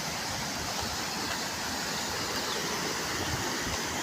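The Malaprabha river pours over rocks in a steady, dense rush of falling water that stays loud and unbroken throughout, with no voices.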